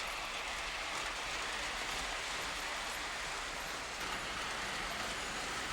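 Lionel toy model trains run along a home layout of replica bridges and elevated track, making a steady, continuous rolling rumble with a faint clatter that stays even throughout, with no voices.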